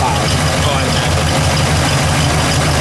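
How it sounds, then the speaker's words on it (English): A built 455 tri-power V8, reportedly on a 1969 block, in a 1965 LeMans convertible GTO tribute with headers and dual exhaust, idles with a steady, loud, low rumble throughout. "this thing's powered by a built 455 tri-power engine, supposedly a 1969 block, beautiful running engine"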